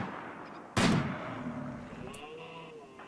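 Single sharp sniper rifle shot in the video game Rimworld, a loud close crack with a short decaying tail, standing alone over a low quiet background.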